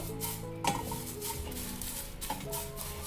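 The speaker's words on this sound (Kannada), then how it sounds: "ಕರಿಬೇವು ತುಂಬ ಚೆನ್ನಾಗಿ ಹುರಿದಿದೆ" Curry leaves roasting in a pan while being stirred, giving a steady low sizzle with scraping and occasional clinks of a utensil against the pan, close and continuous throughout.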